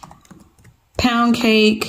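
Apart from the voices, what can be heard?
typing on a computer keyboard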